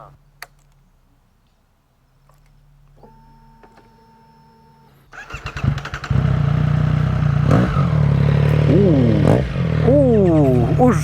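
A Triumph Street Triple 660 S motorcycle first gives a quiet electrical whir and ticking, then its engine cranks and catches, settling into a loud idle with a few sharp rising and falling revs, close up and mostly without talking.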